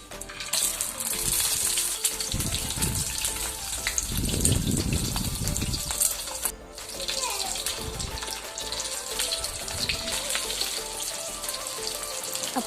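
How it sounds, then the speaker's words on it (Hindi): Egg-coated kebabs fry in ghee with a loud, bubbling sizzle that swells in bursts, and a voice talks over it now and then. "सबसे पहले मैं कबाब फ्राई करूँगी अंडा लगाकर"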